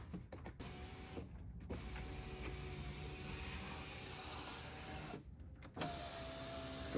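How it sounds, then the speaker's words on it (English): The electric power window in the door of a Mercedes-Benz Sprinter Thor Sanctuary Class B RV runs, giving a steady, close motor whine for several seconds between brief quiet gaps. "the window works"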